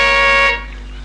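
A car horn blares in one loud, close, sustained honk lasting about half a second, then cuts off, leaving a low rumble behind.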